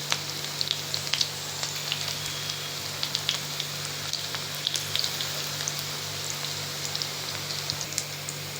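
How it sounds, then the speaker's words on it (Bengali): Bombay duck (lote fish) frying in a pan over low gas, a steady soft sizzle with scattered crackles and pops throughout, close and moderately quiet, with a faint constant hum underneath and no talking. "তো দেখতে পাচ্ছ লোটে মাছটা দিয়েছি, একটু গায়ে গায়ে হয়েছে, ভাজা এক পিঠ হোক"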